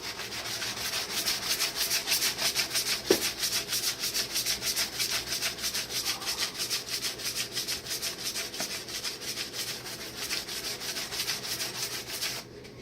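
Hand sanding of wood with a sandpaper block, a close, steady scratchy rubbing in quick back-and-forth strokes that repeats evenly for the whole stretch, with a couple of faint knocks and no talking.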